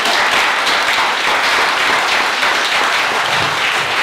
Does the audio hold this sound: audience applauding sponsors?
yes